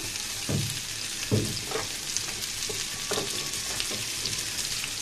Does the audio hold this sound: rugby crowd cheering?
no